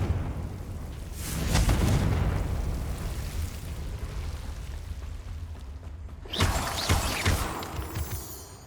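Confringo spell blast in Hogwarts Legacy on PS5: a deep rumbling explosion swells and fades, then a second sharp burst hits with crackling debris, loud and close against quiet game ambience.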